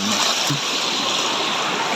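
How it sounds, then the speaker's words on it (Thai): Stream water flows steadily and loudly nearby in the countryside, a continuous rushing babble with a brief low knock near the start. "โอ้เสียงน้ำไหลเย็นสบายพี่น้องเอ้ย"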